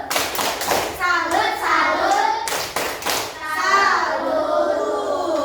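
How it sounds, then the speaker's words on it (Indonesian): Fifth-grade schoolchildren in a classroom perform the rhythmic "tepuk salut" clapping routine, sharp group claps in a patterned beat mixed with their chanted voices, loud and close. "Kita kasih tepuk salut dulu ya"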